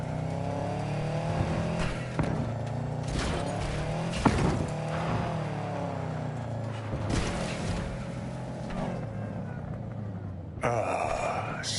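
A car driven in the video game Cyberpunk 2077, its engine droning steadily with some revving and tire noise and a few sharp knocks, continuing throughout with no talk.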